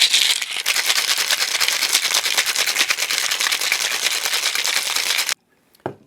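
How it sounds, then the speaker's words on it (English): A metal cocktail tin packed with ice is shaken hard and fast, giving a loud, dense, rhythmic rattle for about five seconds before it stops abruptly, followed by one short knock. "Now we ice the tin. And give it a really good shake."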